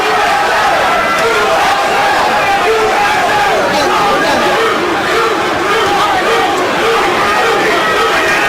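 Large boxing arena crowd at a title fight chanting in unison, a dense, loud, rhythmic roar of many voices filling the whole stretch without pause.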